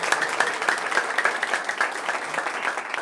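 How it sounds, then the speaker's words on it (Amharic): A church audience claps steadily for a few seconds, a dense crackle of many hands with a quick even rhythm and no speech on top. "እስቲ ድገሙና አጨብጭቡ"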